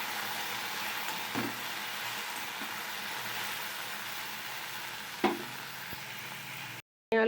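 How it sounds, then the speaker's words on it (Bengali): Okra frying in a pan on a home Bengali stove, a steady broadband sizzle running throughout with a couple of brief clinks of stirring, ending abruptly in a short silence. "ভেন্ডিটা ভাজা হয়ে গেছে।"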